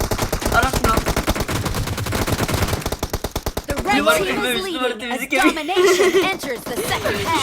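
Rapid automatic gunfire bursts from the mobile battle royale game PUBG Mobile, a dense stuttering volley for the first few seconds, then scattered shots and game effects, with players laughing and talking over it.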